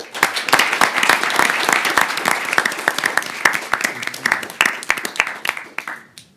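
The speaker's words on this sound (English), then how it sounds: "Ladies and gentlemen, a round of applause" Audience applause at a debate finals event fills the room steadily and loudly, with dense claps throughout before tapering off at the end.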